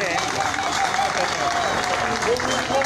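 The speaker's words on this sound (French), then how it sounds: "applaudissez pour le communal de Bajam" A crowd at an outdoor political rally on an esplanade in Mbouda, Cameroon, claps steadily throughout, dense and sustained, with voices murmuring among the applause.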